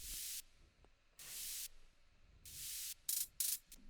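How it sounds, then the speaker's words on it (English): Sampled white-noise hi-hat bursts, loud and hissy, hitting in bright clustered blasts including a quick triple burst near the end, with quiet gaps between. "I think this is a triple hi-hat, the triple burst one,"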